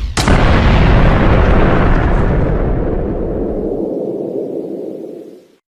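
A missile explodes in the Minecraft video game: one loud, close boom bursts out, then a long roaring rumble fades gradually over several seconds, with no voices.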